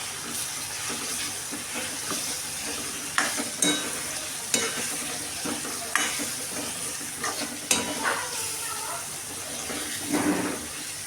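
Tomatoes with dry masala sauté in a pan, giving a continuous soft sizzle with sharp scrapes of the stirring spoon every second or so, close up and without speech.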